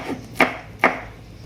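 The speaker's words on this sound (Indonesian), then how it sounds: "ini cabai hijaunya saya iris, ini diiris semua hingga habis ya" A knife slices through green chilies on a cutting board, two sharp, close chops spaced apart, with a quiet pause after each and no talking.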